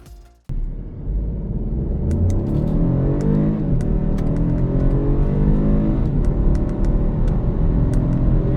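A 2025 BMW 218i M Sport compact car launches from a standstill and accelerates hard. After a brief quiet start, its engine note jumps in loud and close, then climbs steadily in pitch and stays loud, with no talking.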